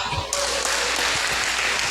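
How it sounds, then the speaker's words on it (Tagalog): A church congregation breaks into applause during a sermon, a steady wash of many hands clapping that begins abruptly and holds at an even level to the end. "Palakpak."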